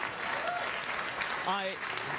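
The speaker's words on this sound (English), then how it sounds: "I can't believe you're clapping that." Studio audience on a late-night talk show applauding steadily, a dense wash of clapping at moderate level with a voice speaking briefly over it partway through.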